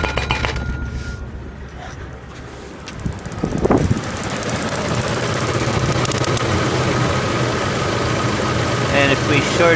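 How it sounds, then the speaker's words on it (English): A car engine idles with a deliberate regular misfire caused by a shorted-out faulty spark plug, producing a loud, steady, rough pulsing close by, with a brief clatter early on and a voice speaking over it. "short out the bad one, we get a regular misfire"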